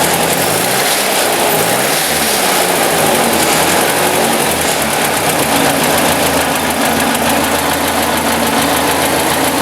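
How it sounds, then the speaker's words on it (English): A 1954 Ford Jubilee NAA tractor engine, fitted with a Pertronix electronic ignition conversion, idles steadily and loud up close, a constant low rumble with a smooth, even vibration, no bogging and no talking. "Nice smooth idle."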